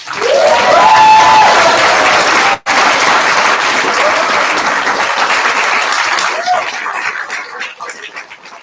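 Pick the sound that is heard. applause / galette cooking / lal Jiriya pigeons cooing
applause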